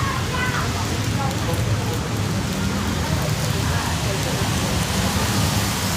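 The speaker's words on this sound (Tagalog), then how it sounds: "It has not slowed down. It's still raining." Heavy rain pours steadily outside a hotel with a fountain near Maya Shopping Center in Chiang Mai, a dense, unbroken hiss of downpour lasting the whole stretch.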